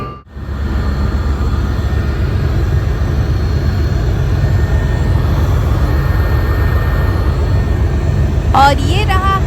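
Loud, steady engine and rotor drone fills the cabin of a helicopter flying over Ayodhya, holding constant throughout, with a brief voice near the end.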